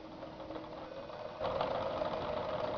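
Sewing machine running steadily as it stitches a flat seam along fabric, guided by the presser foot; a continuous mechanical hum that grows slightly louder and busier partway through, with no talking.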